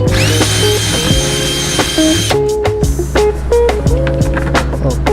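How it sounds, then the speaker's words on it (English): A power drill bores holes for a rear diffuser on an Acura RSX, a sustained whine for the first couple of seconds, then shorter bursts with clatter and handling noise close by. "Then we can drill this bitch."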